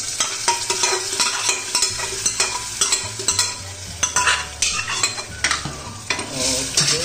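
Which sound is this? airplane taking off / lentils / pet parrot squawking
lentils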